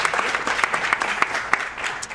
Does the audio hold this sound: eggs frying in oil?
no